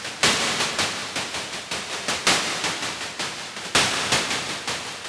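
A Moog DFAM plays a steady drum beat of noisy, hissing hits, with louder snare-like noise accents every couple of seconds and reverb tails smearing between the hits.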